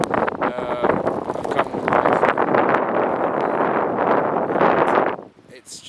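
Gusty wind buffets the microphone in a loud, roaring rush, with a person speaking briefly under it before it drops off at the end.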